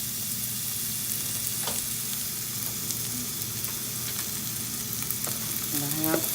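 Mushrooms with orange and green peppers and onions frying in olive oil in a pan, a steady close sizzle with occasional crackles and light stirring scrapes, no talking.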